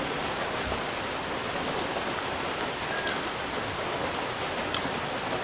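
Steady rain falls continuously, a dense even hiss of drops with a few sharper patters close by, heard on its own with no talking.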